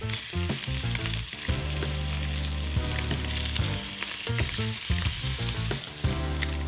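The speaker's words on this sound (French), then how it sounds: "Dans une poêle à feu vif avec un peu de matière grasse, je dépose délicatement ces belles Saint-Jacques et on va simplement les saisir." Scallops searing in a frying pan over high heat with a little fat, a loud continuous close sizzle running throughout with no talking, layered over steady tonal background music.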